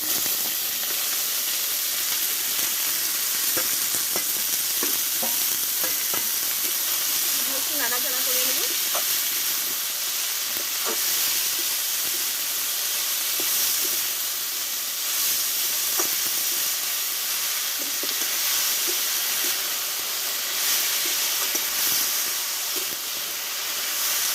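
Radish greens tipped into a hot pan and cooking down, a continuous loud hissing sizzle that holds steady throughout, with occasional faint scraping clicks of stirring.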